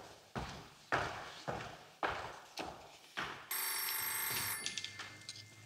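A landline telephone rings in a room, with repeated rhythmic ring bursts followed by a sustained bell tone, moderately loud and without talk.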